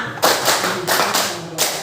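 A classroom of children claps a short rhythmic pattern, a handful of crisp group claps in quick succession, close and fairly loud.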